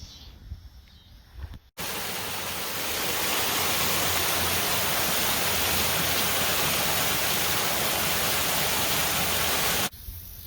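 Two waterfalls at Cooper Creek on Lake Taneycomo pour in a loud, steady broadband roar that comes in abruptly and holds constant for about eight seconds before cutting off, with quieter outdoor ambience on either side.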